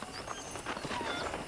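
Hooves of a horse clip-clop at a steady walking pace in a Red Dead Redemption ranch scene, fairly soft and continuous against a busy game soundscape.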